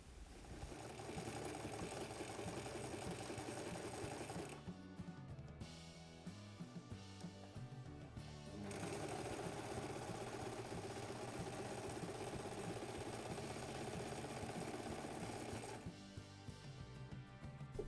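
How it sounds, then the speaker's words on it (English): A sewing machine runs continuously, zigzag stitching three layers of fabric for a gimbal case, a steady mechanical whir and rapid needle chatter with a couple of brief slowdowns. "I'm going to sew the 3 layers of fabric together and then zigzag stitch it to make it a bit more resistant."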